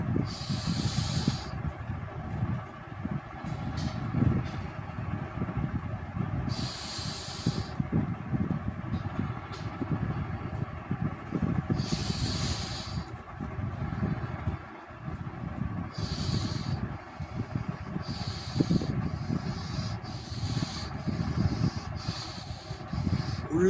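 Forceful breathing during a breathing exercise, repeated airy hissing exhalations over a steady low hum, the breath bursts coming more quickly toward the end.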